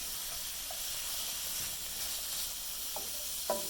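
Vegetables sizzle in a hot pan while being stir-fried for vegan yakisoba, giving a steady, soft hiss throughout with a couple of brief clicks near the end.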